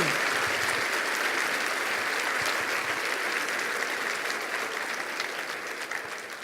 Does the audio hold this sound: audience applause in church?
yes